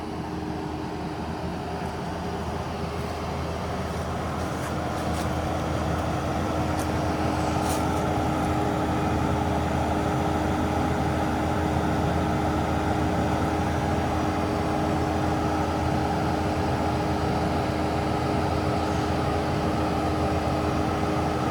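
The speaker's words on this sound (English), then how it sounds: "the machine is doing a regen right now, which means she had to rev it way up" A skid loader's engine holds a high, steady rev during a DPF regeneration, a continuous loud drone with a constant tonal hum throughout and no talking.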